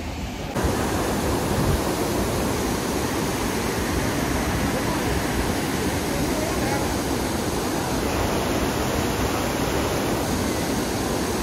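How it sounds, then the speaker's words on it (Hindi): Tiger Falls waterfall at Chakrata, Uttarakhand, in monsoon flow, roaring as a loud, steady broadband rush that fills the whole clip without a break. "अब बिल्कुल सामने आ गया टाइगर फॉल"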